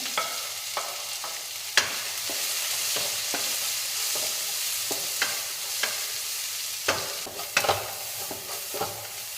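Green chilli and onion fry in hot oil in a pan, giving a steady close sizzle broken by sharper scrapes and taps as a spoon stirs them, with no talking.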